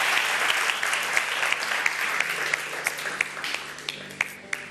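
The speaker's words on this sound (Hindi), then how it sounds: "तालियों में लगता है कोई दम नहीं है" An audience at a televised iftar gathering keeps up steady applause, a sustained patter of many hands with occasional sharp close claps standing out, fading slightly toward the end.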